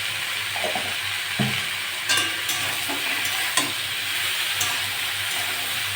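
Jackfruit and potato pieces fry in a pan with a loud, steady sizzle, while a spatula scrapes and taps against the metal every second or so, close up.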